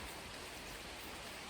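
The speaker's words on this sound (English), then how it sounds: "how beautiful a woodland walk is in the rain" Steady rain falls through a woodland, a soft, continuous hiss of drops on leaves and ground at an even, quiet level with no voices.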